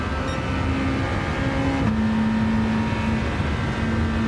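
Race car engine in Gran Turismo 7 holding a high, steady whine near 9,000 RPM at top speed, its tone stepping up through gear changes as it climbs an uphill stretch; loud and continuous with no talk.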